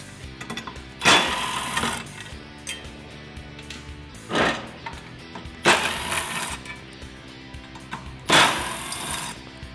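Power tool zipping bolts out of a Polaris UTV clutch, four loud bursts spaced a few seconds apart with quieter handling and clinking of parts between them.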